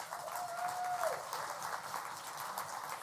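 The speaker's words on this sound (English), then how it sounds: "They deserve an applause." A gala audience at a criminal justice awards dinner applauds the staff, a steady, fairly faint wash of many hands clapping heard from a distance, with a brief whistle near the start.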